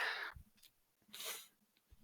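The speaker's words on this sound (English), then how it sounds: "I was trying to blow my nose." A stuffy, allergy-congested person blows their nose close to the microphone in two forceful, breathy bursts separated by a short quiet gap.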